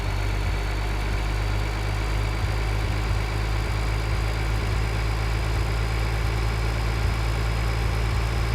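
A small tractor engine in Farming Simulator 2013 idles with a constant low rumbling drone and a faint high whine, no voices.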